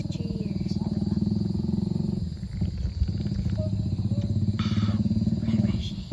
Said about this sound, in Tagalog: Ayun guys, may motor na siya nadadaan.